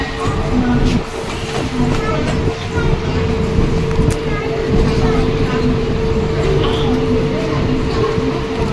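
A train rumbles along with a continuous low roar and rattling, a faint steady hum running through it, with voices murmuring inside the carriage.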